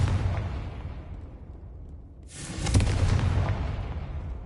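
Magical Bombarda and Confringo spell blasts in Hogwarts Legacy, a rumbling explosive roar that dips briefly, then a second sharp blast with crackling debris and a sustained booming tail.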